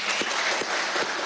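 An audience applauds at a televised Venezuelan presidential program, dense continuous clapping from a crowd filling the short moment.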